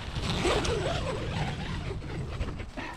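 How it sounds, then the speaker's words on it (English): Small zips on a tent tunnel flap rasp in short, scratchy pulls, close and fairly loud, with rustling fabric around them. "these zips are so small."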